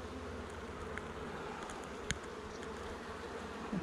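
Bees hum in a struggling hive with empty, light frames, a steady low buzz close by, broken by a few faint clicks from handling the frames.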